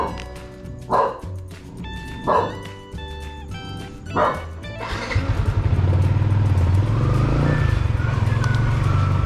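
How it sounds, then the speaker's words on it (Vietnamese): Dogs bark at night near a roadside delivery stop in Vietnam: three loud, separate barks spaced a second or two apart, then a motorbike engine starts and idles steadily. "Chó thì nó hay sủa."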